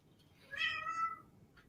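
A single cat meow, fairly faint and alone, rising and falling over about half a second against quiet room background.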